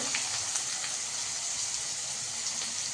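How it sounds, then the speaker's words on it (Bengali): Potato pieces frying in hot oil in a kadai make a steady, dense sizzling hiss that stays close and even throughout, with no voices. "এবার আমি আলুগুলো আস্তে আস্তে দিয়ে দেবো"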